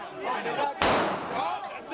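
A single sharp gunshot cracks out inside the US Capitol during the riot, cutting through a steady murmur of crowd noise and shouting protesters.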